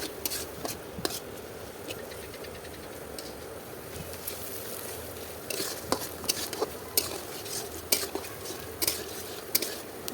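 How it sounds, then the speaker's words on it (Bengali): Green chili, onion and garlic fry gently with turmeric and salt in a pan, giving a quiet, steady sizzle broken by frequent clicks and scrapes of a stirring spoon. "এখন এর মধ্যে কাঁচা মরিচ পেঁয়াজ রসুন কুচি দিব তারপর হলুদ দিতে হবে এখন লবণ দিয়ে দিব এখন হালকা বাদামি রঙে ভেজে নিব"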